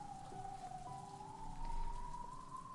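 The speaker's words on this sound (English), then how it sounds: "walked amidst the quietly falling rain without so much as an umbrella" Quiet rain falls in the visual novel game Umineko no Naku Koro ni Chiru, a soft steady patter with a faint rising tone drifting above it and no voices.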